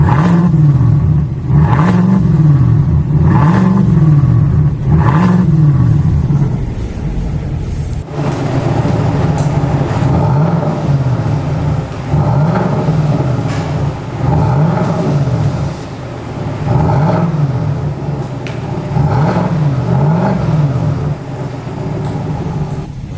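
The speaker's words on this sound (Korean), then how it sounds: "가변 열고 소리 들어보니까 배기음이 진짜 박력 넘칩니다" A deep, throaty V8 engine on a fifth-generation Cadillac Escalade with exhaust valves open revs repeatedly in rhythmic surges, loud and close, its exhaust roaring up and falling back over and over.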